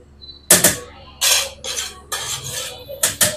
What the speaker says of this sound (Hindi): इसके अंदर चम्मच हिलाकर और इसको मिक्स करेंगे